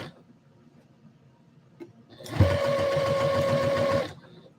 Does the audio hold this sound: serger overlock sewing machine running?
yes